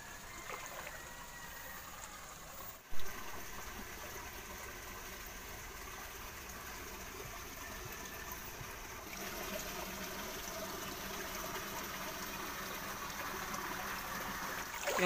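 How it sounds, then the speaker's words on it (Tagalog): Water from a natural spring at a rural washing spot flows with a continuous, steady hiss and trickle, with one brief knock early on; no voices are heard. "So guys, ito po yung tubod."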